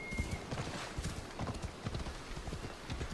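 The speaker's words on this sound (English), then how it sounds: "We're just riding our black, smoky horse across the beach." Hooves of a black horse galloping across a beach in Assassin's Creed Odyssey, a steady drumming clip-clop rhythm that runs without a break at moderate loudness, with no one speaking.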